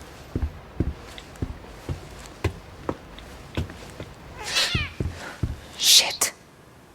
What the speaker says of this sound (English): I stepped on the cat.